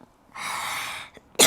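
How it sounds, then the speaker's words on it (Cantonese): A woman with a slight cough, caught up close, lets out a long breathy rasp that fades, then after a short pause a sudden loud, sharp burst cuts in at the end, with no talking. "有少少咳，俾嗰個韓國佬激到咳"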